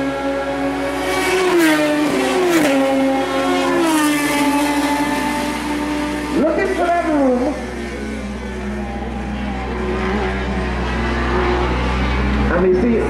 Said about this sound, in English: Now Mark is driving the black SR3 Radical